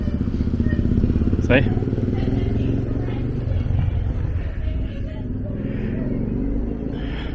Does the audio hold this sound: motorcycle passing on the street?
yes